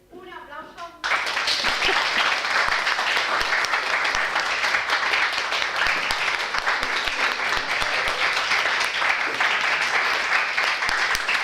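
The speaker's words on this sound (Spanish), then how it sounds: "Un aplauso" Audience applause breaks out after a speaker finishes at a workplace talk, a dense, steady wash of clapping that starts abruptly after a second of speech and holds loud and even to the end.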